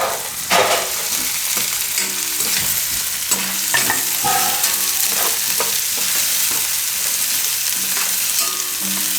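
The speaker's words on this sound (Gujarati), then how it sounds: "હવે એમાં નાખી દઉં લાલ મરચાં." Red chillies frying with garlic in a pan for a red chilli and fresh turmeric vegetable dish, a loud, close, constant sizzle broken by repeated scraping and clinking stirring strokes, no talking.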